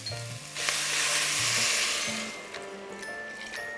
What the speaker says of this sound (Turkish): Şimdi içine tavuk suyunu ilave ediyorum.